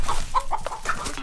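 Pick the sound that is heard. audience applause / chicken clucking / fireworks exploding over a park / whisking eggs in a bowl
chicken clucking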